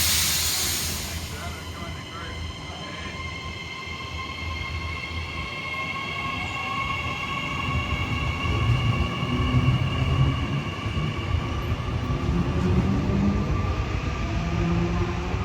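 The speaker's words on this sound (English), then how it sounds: "This train is now due to depart." A train departs Broadmeadow station in Newcastle, Australia, rolling away with a deep, building rumble, wheels faintly squealing and a high whine rising in pitch as it gathers speed.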